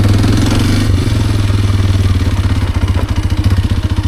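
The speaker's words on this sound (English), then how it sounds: "Give a little bit of throttle." A Kawasaki KLX230R dirt bike engine gets small throttle inputs, a loud, close, chattering single-cylinder putter that pulses quickly and rises slightly in pace toward the end, with no talking.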